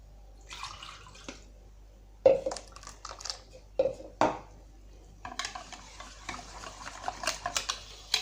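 Milk being whisked into crêpe batter in a bowl: bursts of wet clinking and swishing strokes, with pauses between, then a steadier run of quick stirring near the end, close and fairly quiet.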